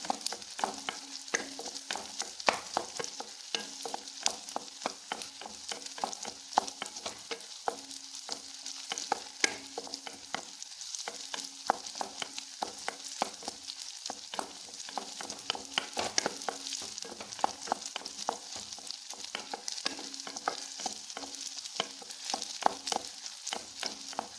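Chili chutney ingredients, onions and garlic, sauté in a pan for a long stretch: a steady sizzle broken by frequent scraping stirs, close and fairly quiet, with no voices.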